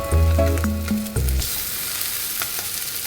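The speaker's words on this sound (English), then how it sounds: "I put the Spam with the teriyaki sauce over the stove just to give it a bit of browning" Spam glazed with teriyaki sauce sizzles and spits in a hot pan on the stove, a steady close crackling hiss joined at first by brief tonal clinks and stirring.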